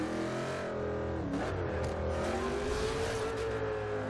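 A Dodge Challenger SRT8 392 Hellcat in Forza Horizon 2 pulls hard through a tunnel, its loud engine note climbing steadily, dipping on a shift, then rising again, close and continuous with no talk.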